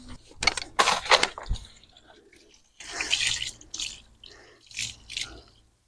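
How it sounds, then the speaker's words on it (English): Water is poured from a container onto a garden plant in an urban vegetable bed, coming in a few short splashing bursts separated by quiet pauses, close and fairly soft. "let's get some more water to water the next plant in"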